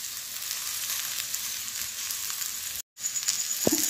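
Okra (bhindi) sizzles steadily in a pan over medium heat, a continuous close frying hiss with a brief cut near the end and a faint clink of stirring, no talking.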